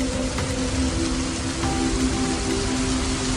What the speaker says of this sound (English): Then the first drops of rain fall onto the dry earth and seep into the cracks.